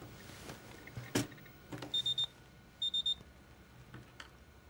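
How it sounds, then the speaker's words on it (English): Two short bursts of rapid electronic alarm beeps, three pips each, over a quiet background with a few soft clicks. "Your tech boys' alarms should be ringing about now."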